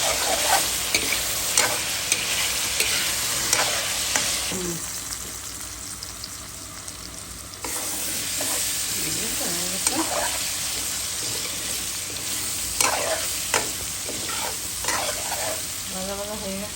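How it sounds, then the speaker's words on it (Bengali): Potatoes fry with a steady loud sizzle in an oiled pan while a spatula scrapes and stirs them in repeated strokes, a voice briefly heard beneath. "ভাজা ভাজা হয়ে যাবে।"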